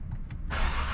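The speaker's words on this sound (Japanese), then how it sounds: "エンジンかけちゃおうかな。" A MINI John Cooper Works GP engine cranks and fires about halfway through, bursting into a loud, steady idle roar up close after a quieter moment.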